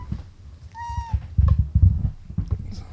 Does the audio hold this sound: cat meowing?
yes